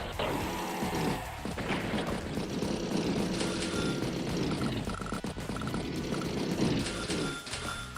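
Bomber aircraft flying in the Advance Wars by Web strategy game, a continuous droning propeller-engine roar with mechanical rattles and game effects layered over it, steady and fairly loud for several seconds.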